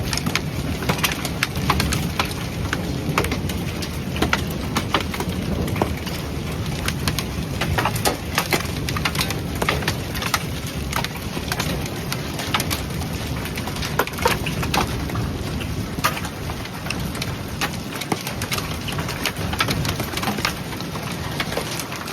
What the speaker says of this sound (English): a big hailstorm came through.